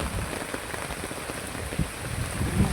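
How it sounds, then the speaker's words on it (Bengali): Heavy rain pouring during a storm, a dense steady wash of drops hitting the ground and surfaces nearby, with a few heavier splatters, no voices. "এখন প্রচুর বৃষ্টি হচ্ছে, ঠিক আছে এই দেখো দেখতে পাচ্ছ, সেই বৃষ্টি হচ্ছে এখন।"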